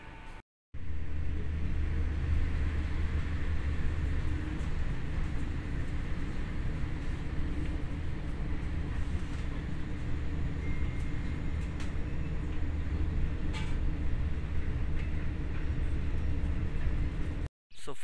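Steady low rumble and rolling hum inside a moving German passenger train on the way back from Würzburg, continuous and fairly loud with faint rattles, no talk.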